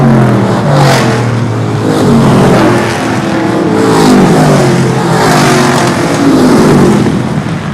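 Several short track race cars snarl in a tight pack on the final lap, engines loud and continuous with rising and falling revs as they pass close by, no voices over the racing.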